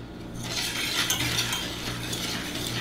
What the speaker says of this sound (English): I'm gonna slowly add in 1 cup of whole milk, whisking as I'm incorporating it